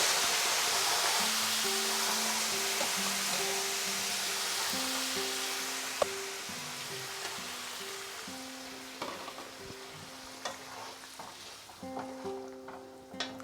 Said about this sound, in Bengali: তাই আমি এর মধ্যে ডবল পরিমাণ অর্থাৎ 4 কাপ পরিমাণে গরম জল দিয়ে দিচ্ছি।